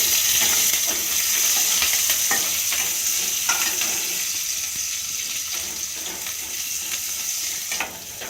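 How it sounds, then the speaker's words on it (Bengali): Marinated bhola fish frying in hot oil in a wok, giving a steady, loud sizzle and crackle that holds throughout with small bursts of spatter, and no voices. "এবার মাছগুলোকে দিয়ে দিচ্ছি"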